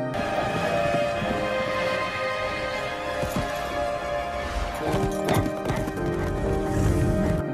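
A horse gallops as a headless horseman gives chase: steady, fast hoofbeats close by, with a few sharp crashes and thuds toward the end.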